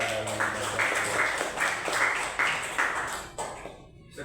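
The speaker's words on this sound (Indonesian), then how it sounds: "Kita beri tepuk tangan untuk teman kita dalam membaca Al-Qur'an." Classmates in a Grade 4 Quran studies lesson applaud a pupil's recitation of Surah Al-Qari'ah: a sustained, fairly soft round of claps in a classroom, fading out near the end.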